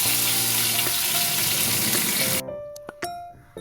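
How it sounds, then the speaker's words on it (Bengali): Potatoes with turmeric frying in hot oil, a dense steady sizzle that cuts off partway, followed by a few quieter clinks and small kitchen sounds. "হলুদ দিয়ে আরও কিছুক্ষণ লাল করে ভেজে নেওয়ার পর আলুগুলো তুলে রাখছি"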